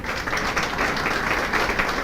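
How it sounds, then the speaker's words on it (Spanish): A church congregation applauds during a Spanish-language sermon, giving a loud, dense, steady wash of clapping that runs unbroken throughout. "Sí, dé un aplauso al Señor"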